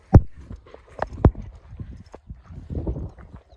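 A roughly ten-year-old mare's hooves clop on hard ground in irregular, close knocks, a few sharp strikes among softer steps, with faint rustling and no clear voices.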